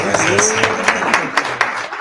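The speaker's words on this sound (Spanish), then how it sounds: "ahora un aplauso para nuestros maestros" Audience applause for the teachers at a school ELD parent night: a short burst of scattered clapping from a room of parents, with voices talking over it.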